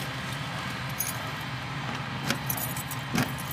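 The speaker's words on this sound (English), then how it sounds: "Got a million keys." A bunch of keys jangles in two short bursts, near and fairly loud, over a steady low background hum with no talking.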